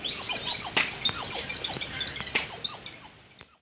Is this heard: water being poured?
no